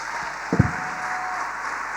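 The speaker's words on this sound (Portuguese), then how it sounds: "Aplauda a Jesús" Steady, dense applause from a crowd at a church service, a broad wash of clapping that holds evenly throughout with a couple of sharper claps near the start.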